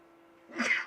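A single sharp sneeze bursts out in the second half after a quiet, low hum, close and fairly loud.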